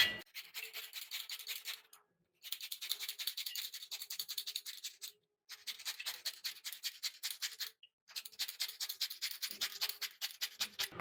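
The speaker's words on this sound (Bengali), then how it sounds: "প্রথমে আলুটা গ্রেট করে নেব।" A potato grated by hand in a home kitchen, given as steady rhythmic rasping strokes in three bursts separated by short pauses, close and fairly quiet with no talk.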